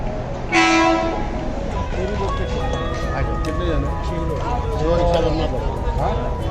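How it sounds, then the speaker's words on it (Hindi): Double-decker local train in Mumbai bound for Gujarat, rolling past with steady rumbling wheel and carriage noise, a brief horn blast near the start and squealing, clanking rail sounds throughout, loud and close. "ये मुंबई की डबल डेकर लोकल यहाँ पर आपको दिखाई दे. गुजरात जाने वाली."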